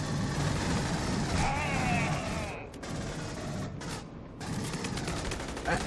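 Rifle fire in the video game Aliens: Colonial Marines: loud, sustained rapid bursts of shots that fill the clip, broken by a couple of brief pauses.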